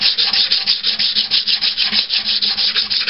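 Sandpaper rubs over Bondo filler on an Iron Man helmet in quick, even back-and-forth strokes, a loud, close, rhythmic scratching with no speech.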